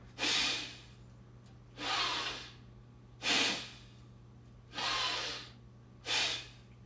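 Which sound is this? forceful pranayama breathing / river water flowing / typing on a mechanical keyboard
forceful pranayama breathing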